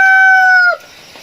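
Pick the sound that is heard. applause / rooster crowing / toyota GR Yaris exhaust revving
rooster crowing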